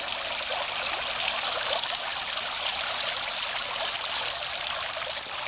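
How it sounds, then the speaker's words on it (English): Steady trickling and splashing water dripping from the rim of a pool, a continuous bright patter close by with no voices. "now it's focused on the rim of the pool and the dripping water"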